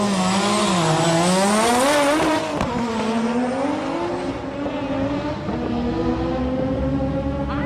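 A two-wheel drive car blasts through a drag racing run in Japan, its loud engine climbing in pitch through successive gear changes, close and dominant with no talk.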